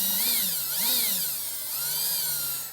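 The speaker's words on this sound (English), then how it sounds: "This is never not scary, drilling into your dash." A power drill bores a pilot hole into the dash of a 2018 Jeep Grand Cherokee, its high motor whine steady and close, rising and dipping in pitch as pressure changes, with no talking.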